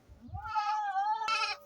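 A single goat on a farm lets out one clear, wavering bleat, close and fairly loud, ending in a brief sharper cry, with no other sound around it.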